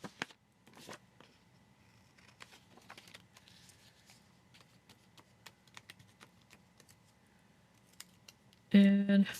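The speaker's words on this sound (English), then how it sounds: "Just trimming off some of the offset so I can bring it in as close as I can." Scissors snip through paper, trimming off the offset in a series of quick, close cuts spread across the stretch, ending in a louder burst of handling noise.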